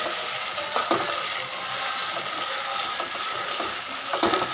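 Green chillies sautéing in hot oil after onion and tomato, a steady broadband sizzle with a few louder crackling bursts, close and continuous throughout with no talking.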